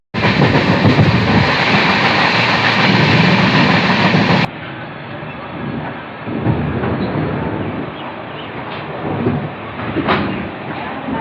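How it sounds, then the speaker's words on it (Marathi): The 10105 Diva–Sawantwadi Express rumbles loudly and steadily, then drops to a quieter rolling clatter with faint rhythmic rail clicks. "10105 दिवासा उंदवाडी एक्सप्रेस आता पोहोचलेली आहे पनवेल रेल्वे स्टेशनला"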